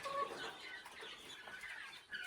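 Farm chickens pecking and eating feed near their cages, soft scattered clucks and small rustling sounds at a quiet, close distance, with no voices.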